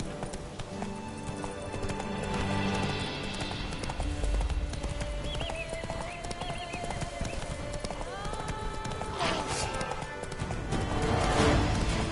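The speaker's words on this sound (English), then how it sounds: "Come on, Roach. Slow now. Whoa" Rapid rhythmic hoofbeats of a horse galloping in the Witcher 3 game, with an occasional whinny and game music underneath, steady and fairly close throughout.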